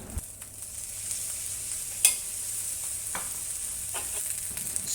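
Japanese garlic fried rice is stir-fried in a pan, with a constant soft sizzle and scattered scraping clicks of a utensil against the pan, one sharper knock standing out.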